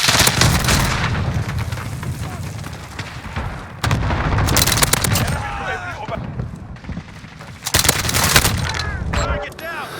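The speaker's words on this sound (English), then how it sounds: "It's an airstrike." Heavy booms of an airstrike in Call of Duty Ground War, several loud explosive blasts in separate waves mixed with bursts of rifle fire and ringing debris, while voices talk over the battle.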